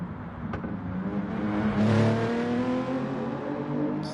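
An engine in a racing video game revs and climbs in pitch as the race car pulls away from the line in a St. Croix league race, a steady loud whine that swells and holds with no talk over it.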